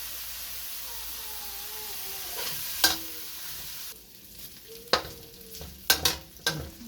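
Bacon sizzles in a pan for spaghetti carbonara, a steady frying hiss throughout, broken by a few sharp clinks and scrapes of stirring utensils against the pan.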